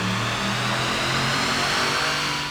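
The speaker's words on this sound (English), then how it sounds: "we did all of our runs on the dyno in 4th gear to avoid hitting our dyno speed limiter" A 2019 Ram 1500 truck fitted with an Edge Pulsar tuning module roars on a dyno in 4th gear, a loud continuous engine drone climbing steadily in pitch as it runs toward redline.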